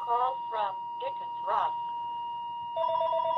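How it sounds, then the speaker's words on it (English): A telephone rings with a steady electronic tone near the end, after brief speech, while a constant hum from a 1960s Elgin 12-transistor AM/FM clock radio under repair runs throughout. "Let me get the phone."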